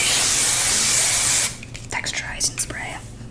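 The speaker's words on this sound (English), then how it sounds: "I have this Matrix Total Results Mist Mess Dry Finishing Spray" Matrix Total Results Mist Mess Dry Finishing Spray from an aerosol can, giving a steady, loud, close hiss for about a second and a half before it stops, followed by soft whispered speech.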